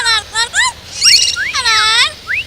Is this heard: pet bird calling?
yes